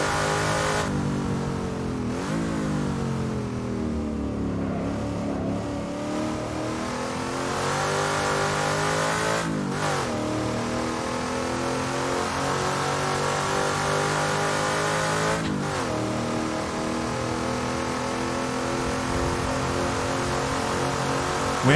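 A race car engine at Bathurst revs hard and drops through heel-toe downshifts, with repeated blips and sharp pitch changes at about 2, 10 and 15 seconds, loud and continuous from onboard.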